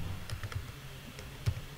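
Computer keyboard being typed on, a short run of soft, irregular key taps and clicks heard close up against quiet room tone, with no speech.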